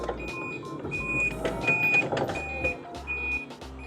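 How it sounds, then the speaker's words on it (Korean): A Toyota forklift's automatic reversing alarm sounds a clear, regular series of high beeps, about six pulses, over a low rumbling engine and faint mechanical clatter. "뒤로 후진할 때는 후방 음성 센서가 자동으로 발생이 합니다"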